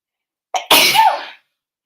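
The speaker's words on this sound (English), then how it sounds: "sorry, I might have to sneeze." A single sharp human sneeze, a short intake followed by a loud burst, close and alone in silence.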